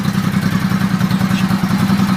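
The engine of a 1986 Honda Shadow 700 motorcycle running steadily at idle, a loud, close, throbbing low rumble with a fast, even pulse and slight mechanical clatter.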